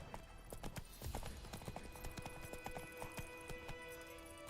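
A horse gallops in The Witcher video game, a steady, fairly quiet run of hoofbeats over game music and ambience, with no speech.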